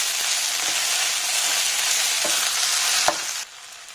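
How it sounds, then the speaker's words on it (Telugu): Sliced okra with turmeric and salt fries in a pan with a loud, steady hissing sizzle, a few soft stirring knocks and a brief clank before the hiss drops off near the end, no voices. "ఒకసారి కలుపుకోవాలండి వేసుకుని."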